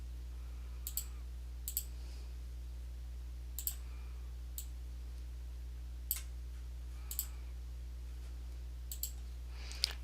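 Computer keyboard keys pressed to type a name, heard as sparse, crisp clicks spaced a second or two apart, sometimes in quick pairs, close and fairly quiet over a steady low hum.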